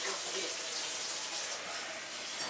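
A kitchen tap runs steadily to fill water for a turkey brine, giving a continuous hissing gush with faint talk underneath.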